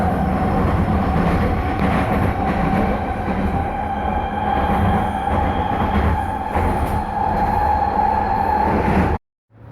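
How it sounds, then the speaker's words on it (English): New trains roar past at close range, a loud, sustained rumble with rhythmic wheel clatter and a high metallic whine lasting several seconds before cutting off abruptly. "Dear Grace, notice how loud the new trains are?"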